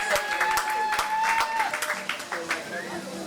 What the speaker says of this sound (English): Let's have another round of applause for Diane McCurl.